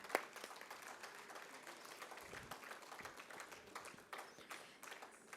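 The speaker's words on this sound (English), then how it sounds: "Please give a round of applause for the accompanists of this evening." An audience at a Bharatanatyam dance recital applauds continuously, a soft, distant patter of many hands clapping without pause.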